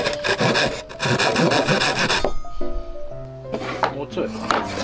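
A wooden dowel is being cut shorter with a hand saw, giving a loud, close rasping scrape for about two seconds, followed by handling knocks while people talk.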